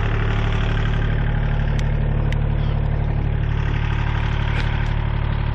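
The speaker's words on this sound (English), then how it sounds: "Boy, you can move a lot of snow with that blower in a short order" A Kubota tractor runs a 72-inch Agro Trend snow blower in a steady, loud, continuous engine drone with a low rumble, heard alone without speech.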